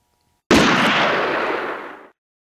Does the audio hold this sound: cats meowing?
no